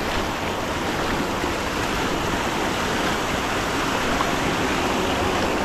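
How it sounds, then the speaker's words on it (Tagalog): A strong river current rushes at an old dam in Taiwan, a loud, dense and unbroken roar of churning water that holds steady close by throughout, with no talking over it. "Ang lakas ng agos."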